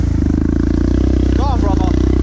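A Honda CRF250L dirt bike engine revs loudly and steadily up close in the woods on a failed hill climb, wheel spinning, with a brief voice or squeal breaking through midway.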